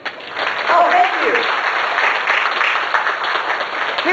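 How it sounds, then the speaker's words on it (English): Studio audience applauding at a live old-time music comedy game show, a loud, steady wash of clapping that holds for several seconds, with a voice talking over it. "Did I hear applause?"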